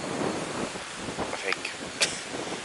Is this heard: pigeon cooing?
no